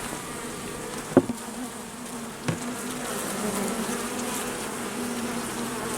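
Honeybees buzz in a dense, continuous swarm around a small nucleus hive during an inspection, with two brief taps cutting through early on.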